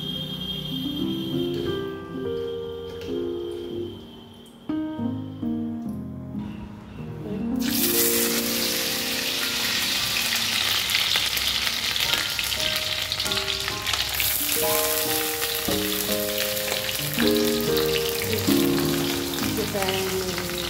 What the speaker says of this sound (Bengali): কড়াইতে গরম তেল দিয়ে দিলাম আর ঘি